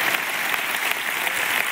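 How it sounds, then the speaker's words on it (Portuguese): A church congregation gives warm applause for Jesus, a dense, even burst of clapping from many hands, loud and close, lasting under two seconds. "dar para Jesus uma calorosa salva de palmas"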